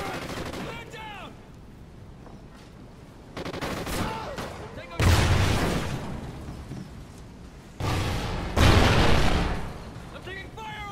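Heavy gunfire from a Call of Duty: Ghosts Domination match, loud bursts of automatic fire and booms swelling in two dense waves amid battle noise, with voices calling out over the shooting.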